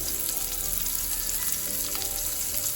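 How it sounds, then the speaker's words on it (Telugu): Chopped tomato and fresh ginger-garlic paste fry in a pan until the raw smell goes, making a dense, loud, unbroken sizzle that stays even throughout, with no voices. "పచ్చివాసన పోయే వరకు ఫ్రై చేసుకున్నాను"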